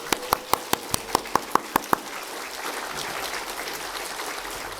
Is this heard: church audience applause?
yes